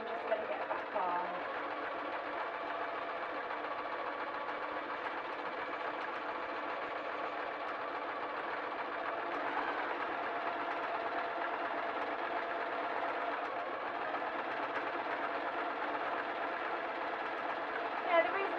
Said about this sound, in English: I'm giving it a good couple of stitches, and now I'm pulling my elastic and easing the fabric through